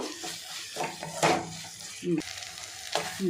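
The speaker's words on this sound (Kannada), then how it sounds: "ಇದನ್ನು ಚೆನ್ನಾಗಿ ಮಿಕ್ಸ್ ಮಾಡಿಬಿಟ್ಟು ತಕ್ಷಣ ಇಳಿಸ್ಬಿಡಬೇಕು" Spoon stirring niger seed powder into brinjal gojju in a sizzling pan, with soft scraping strokes and faint clinks over a steady fry.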